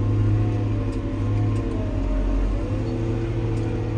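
A Fendt 313 tractor engine heard from inside the cab during ploughing, a steady low droning hum with a constant mid-range whir, even and close throughout, without talk.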